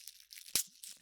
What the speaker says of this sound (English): I'm going to try and rip some of the